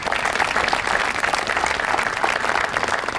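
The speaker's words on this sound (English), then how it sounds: "let's give them a round of applause" Sustained applause from an audience at a junior golf team opening ceremony, steady dense clapping filling the whole stretch at close range with no break.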